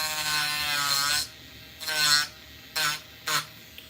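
A Dremel rotary tool grinds at rust patches on a white body, giving a long high-pitched buzzing pass followed by three shorter bursts with brief pauses between, close and fairly loud.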